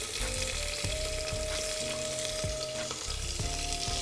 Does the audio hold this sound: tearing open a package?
no